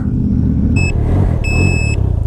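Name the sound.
vehicle beeping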